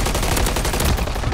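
Dense, continuous automatic gunfire from Modern Warfare 3 (MW3) rattles loud and close through the whole moment, a rapid stream of overlapping shots with no voices over it.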